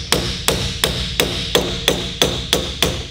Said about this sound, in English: all you do is punch the lock washer down into those grooves to stop it coming undone